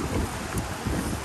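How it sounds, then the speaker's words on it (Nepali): Cold wind blows outdoors near streams, a brief, loud, broadband rush buffeting the microphone with no other sound. "साह्रै चिसो हावा चल्दैछ"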